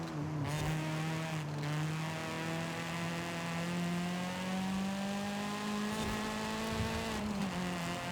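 A car in the racing game Forza Horizon 5 drives through a corner while trail braking, its engine holding a steady, loud, slightly rising whine with brief tire scrubs near the start and end, no talking over it.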